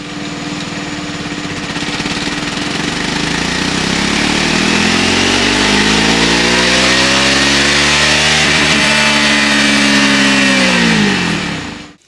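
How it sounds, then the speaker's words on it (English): A Triumph Scrambler 400X motorcycle engine revs on a dynamometer in a steady loud run, pitch climbing smoothly through the range before dropping off at the end, with no talking. "we got Andy to strap our Scrambler 400X to the dyno at BSD Race Developments"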